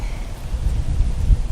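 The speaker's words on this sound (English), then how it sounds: "Wind's kicking up here." Wind blows hard outdoors and buffets the microphone with a continuous low, rumbling roar, heard alone.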